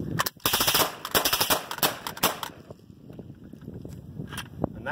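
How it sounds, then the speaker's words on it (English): A suppressed M10 (MAC-10) Masterkey submachine gun fires in rapid bursts, dense muffled cracks for the first few seconds, then scattered single shots and a few mechanical clicks afterward. "I have a street sweeper with an M10 suppressed, of course, and let's see what we can do with it today"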